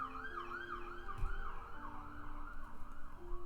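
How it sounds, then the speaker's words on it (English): An ambulance siren wails in a rising and falling pattern, fairly faint and distant, with a low rumble of traffic underneath. "sirens, ambulance passing by the house"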